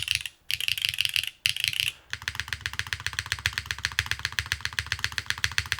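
Rapid, steady keystrokes on a Keycult No. 2 60% mechanical keyboard, close and crisp, with one short pause and a bass-heavy clack from the spacebar and switches running alone without talk.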